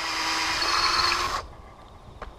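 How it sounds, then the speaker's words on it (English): Power drill boring a hole into the inside of a wooden end post, a loud high whine held steady for over a second before cutting off, then a faint tap. "Now the next job we have to do is we have to drill a hole on the inside"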